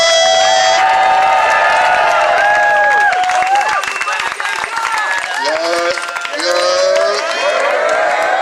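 A street crowd at an abolition march in New York City claps and cheers, with shouts and whoops rising over the clapping and loud voices calling out across it.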